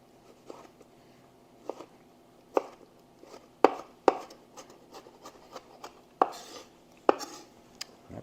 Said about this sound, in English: We'll go ahead and cut all of our tomatoes